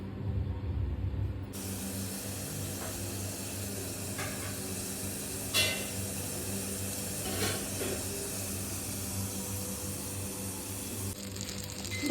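Butter melting in a heated pan gives a soft, steady sizzle and hiss, faint and close, with a few brief crackling spits. No voices are heard.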